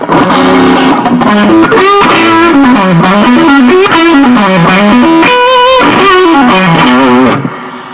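An electric guitar through a gritty vintage distortion pedal plays a loud melodic lead line with bends and sustained notes, then stops abruptly.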